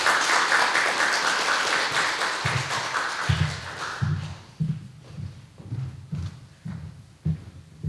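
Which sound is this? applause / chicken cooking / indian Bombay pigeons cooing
applause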